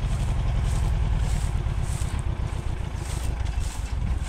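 Ursus C330M tractor engine pulling a five-furrow 25 cm plough through shallow stubble ploughing, a steady close low rumble with a fast regular pulse throughout.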